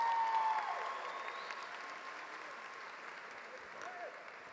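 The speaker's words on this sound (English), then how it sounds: "Give yourself a round of applause." Graduation audience at Eastside High School applauding the class of 2019: steady, dense clapping from a large crowd that fades slowly, with faint talk mixed in.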